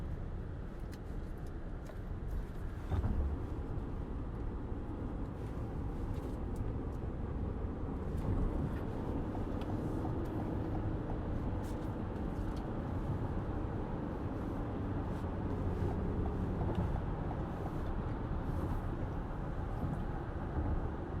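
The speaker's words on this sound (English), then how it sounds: "you're going to hear the road noise and the engine noise as you're going up" A steady, continuous roar of engine and road noise from inside a 2021 Toyota Sienna XSE minivan accelerating uphill, droning evenly throughout with no voices.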